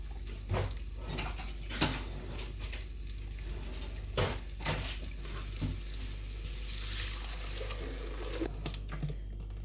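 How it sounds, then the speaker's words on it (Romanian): Tomato juice is poured into a frying pan for a tomato cream soup, giving a steady soft liquid trickle with occasional clinks of the pan, close and moderately quiet. "Iar acum este momentul să punem sucul de roșii în tigaie."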